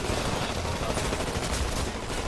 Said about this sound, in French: Je préfère utiliser le chain gun que le canon de 40.